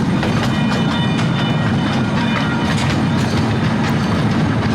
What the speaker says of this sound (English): 1/3 size, operational miniature train.